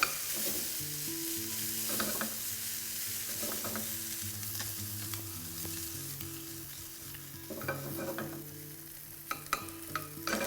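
Slices of crispy SPAM sizzling and spattering in a hot pan, a steady close frying hiss with occasional stirring clinks and pops, no voices.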